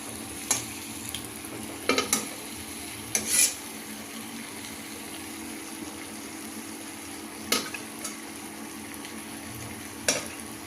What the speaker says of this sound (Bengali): আলুটা একটু ভালো করে কষুক, তারপরে জল দেবো।